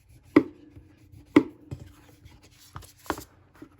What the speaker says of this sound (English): let me actually crease some of these corners so I know where